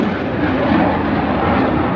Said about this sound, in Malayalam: ഇവിടെ ഫുള്ള് ജെറ്റ്, ഇവിടെ ഫൈറ്റർ പ്ലെയിൻസ് ഇങ്ങനെ പ്രാക്ടീസ് ചെയ്യുന്നുണ്ട്